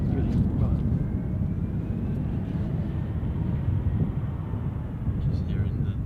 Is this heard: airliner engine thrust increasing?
yes